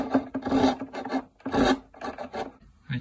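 A hand saw rasps through a violin fingerboard in steady back-and-forth strokes, pausing briefly between bursts, close and fairly loud with no talking.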